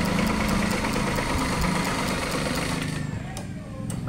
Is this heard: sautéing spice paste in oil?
no